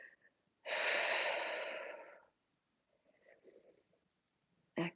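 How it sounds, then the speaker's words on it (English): Deep, drawn-out breath during a yoga exercise, a loud airy exhale lasting over a second, followed by quieter breathy movement and a short sharp breath at the end, close and alone. "Breathing."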